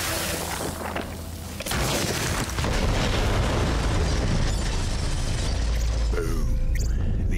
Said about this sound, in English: Explosion echoed through the forest